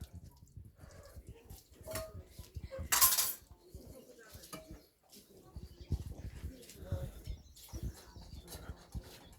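Dishes scrubbed and rinsed by hand outdoors, with irregular clinks and clatter of pots and plates, one louder bang, and a voice talking over the washing.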